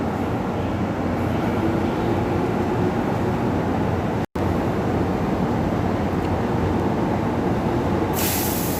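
A Mugunghwa passenger train from Bujeon to Cheongnyangni rumbles steadily into a station, a constant loud mechanical roar with a faint whine and a brief hiss of air near the end.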